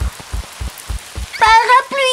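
Several soft, evenly spaced plops like cartoon raindrops, followed by a short burst of a high animated voice.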